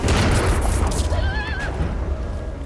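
A horse whinnies once during a thunderstorm, a high wavering neigh rising over heavy rumbling background noise like wind or rain.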